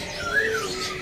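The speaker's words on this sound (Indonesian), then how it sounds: "burung murai batu emhanon gembung ekor 18 cm nih udah ngepur ya" A white-rumped shama (murai batu) with an 18 cm tail sings a single brief, clear whistled note, fairly faint.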